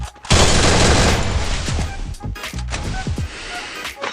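Gunfire in a battle royale video game as a player finishes an opponent with a headshot: a loud burst of rapid automatic shots followed by several sharp individual cracks and booms, close and harsh with no talking.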